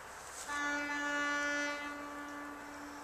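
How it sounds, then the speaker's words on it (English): A single long horn blast sounds from outside, a steady tonal honk that holds for over a second before fading, somewhat distant. "Evidently someone needed to honk their horn."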